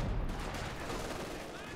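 Gunfire volley from anti-infantry guns hitting a Panzer IV in the World War II strategy game Company of Heroes 2, a dense continuous roar of overlapping shots lasting under two seconds at moderate level.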